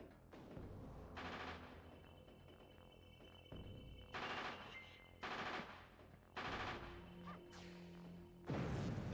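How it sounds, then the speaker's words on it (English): Bursts of rapid gunfire pound out in repeated barrages during Castlevania 64 play, several dense volleys separated by short lulls, loud and close over a steady game background. "As I endure just barrage after barrage of bullets"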